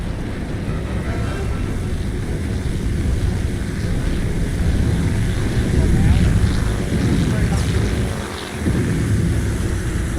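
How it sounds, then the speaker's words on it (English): A continuous, rumbling aircraft engine drone comes from an enemy plane in the naval warfare game Task Force Admiral. It holds steady and fairly loud throughout, with a brief dip near the end. "See the plane."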